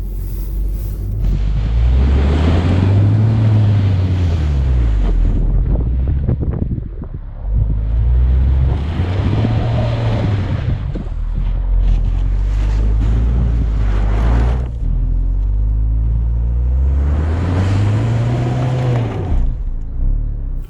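A VW Tiguan 1.4 DSG engine revs in repeated loud surges with wind noise as the SUV tries to climb out of a snowy winter rut, three long strained pulls separated by brief dips.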